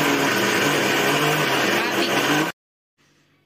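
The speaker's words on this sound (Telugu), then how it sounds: "ఒక ఎగ్ పగలగొట్టుకొని వేసుకొని, ఒక 2 స్పూన్లు ఆయిల్ వేసుకొని మిక్సీ పట్టుకోవాలి" A kitchen mixer grinder whirs loudly, blending Balamrutham flour cake batter with egg and oil, a steady high motor drone that cuts off abruptly after about two and a half seconds, leaving near silence.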